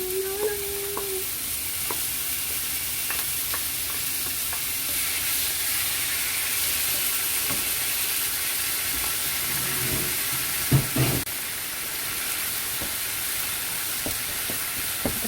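Steady sizzling of kimchi frying in a hot pan for kimchi fried rice, with occasional stirring scrapes and clinks and no one speaking.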